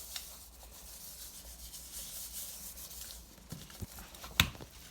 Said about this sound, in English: And then we're going to rub it in.